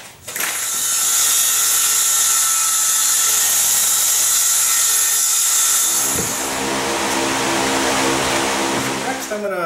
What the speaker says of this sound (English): now I'm going to cut this 3/4 inch birch plywood